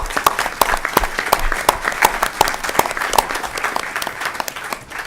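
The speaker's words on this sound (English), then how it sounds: "Give her a big round of applause." An audience applauds with sharp, distinct hand claps over a steady crowd wash that stays fairly even throughout and thins slightly at the end.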